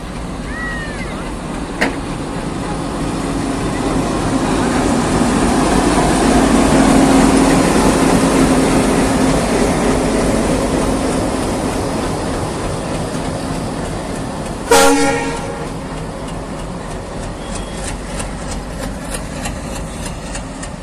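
A freight train arriving from the Jhanjharpur direction pulls into platform 2 at Tamuria railway station, its engine rumbling steadily and swelling as it nears, then a sharp clank and receding idle.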